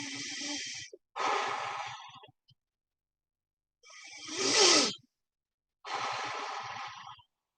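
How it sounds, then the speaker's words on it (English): Long, slow breathing exercise: several drawn-out breaths in and out, each a loud airy rush separated by short pauses, close to the listener with no talk. "I'll sit back and relax and do that long breathing thing."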